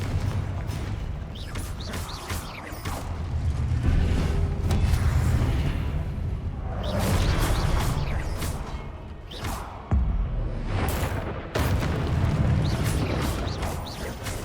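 Confringo explosion spell cast in Hogwarts Legacy, rumbling blasts and crashing impacts rolling through a busy stretch of combat, loud and dense with several bursts in sequence.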